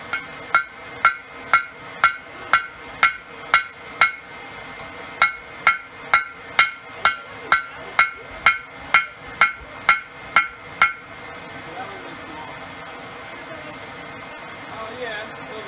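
Steady, evenly spaced ball peen hammer blows ring out on metal at a blacksmith's barbecue forge, about twenty sharp strikes in a row, then they stop and a low hum carries on underneath.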